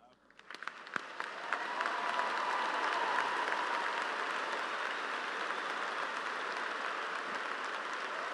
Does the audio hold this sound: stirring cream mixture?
no